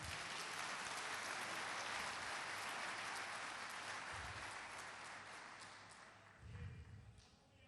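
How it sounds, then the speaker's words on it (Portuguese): Church congregation applauds together at a Portuguese-language service, a broad steady patter of many hands at moderate distance, gradually thinning toward the end with a few low thumps. "Aplauda esse Deus maravilhoso."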